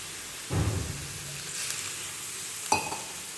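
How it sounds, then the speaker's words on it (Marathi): Water hits a hot pan of spinach with a sudden hissing sizzle, then a softer steady simmer and a second sharp burst of sizzle near the end. "आता हे पाणी असं टाकायचं."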